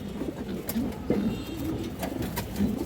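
A female Hemar pigeon gives soft, low cooing calls close by, a few throaty phrases over a quiet background.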